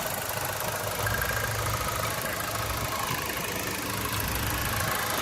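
A 2012 Buick Regal GS turbocharged engine running smoothly and quietly, a steady subdued hum with faint vibration held at an even level throughout, with no talk over it.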